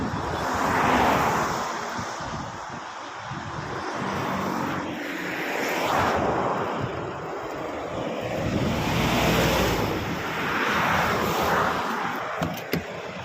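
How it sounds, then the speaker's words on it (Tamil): Strong wind roaring past a motorbike riding at speed along the ECR coastal highway, a steady loud rushing buffet that swells and fades in waves throughout, with no talk. "செம காற்று"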